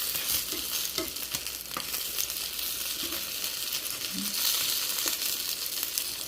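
Steady hissing sizzle of eggplant frying in a pan, with occasional scrapes and taps of a utensil stirring, close up.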